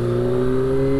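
A Kawasaki ZX25R motorcycle with an aftermarket exhaust holds a high, steady rev, a loud, close, sustained engine whine with strong tonal harmonics and no talk.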